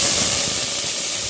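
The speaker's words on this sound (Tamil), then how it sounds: "அந்த எண்ணெயில் மல்லித்தழையும் புதினாவும் நல்லா பொரியட்டும்" Steady, loud sizzling hiss of coriander leaves and mint frying in hot oil for tomato rice, continuous and close, with no voices.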